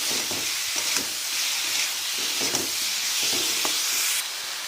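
Tomatoes with added salt fry and get stirred in a pan, a loud steady hiss of sizzling oil and steam broken by repeated scraping strokes of the spoon, close up with no talk.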